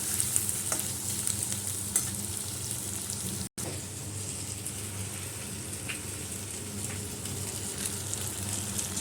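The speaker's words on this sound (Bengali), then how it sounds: "এটা একটু ভালো করে ভাজা হোক।" Chicken fries in a hot pan with a steady, even sizzle, while a spoon scrapes and stirs now and then, close by and with no voices.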